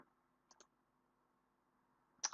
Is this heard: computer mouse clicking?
yes